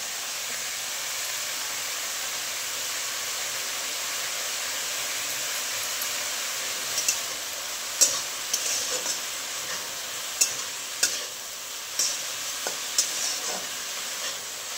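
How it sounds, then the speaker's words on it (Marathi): Dal (lentils) added to a frying pan with greens and stirred, a steady soft sizzle and hiss joined later by a series of sharp clinks and scrapes from stirring. "आता डाळ टाकते."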